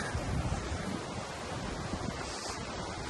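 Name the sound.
running water of a river through Kilmarnock town centre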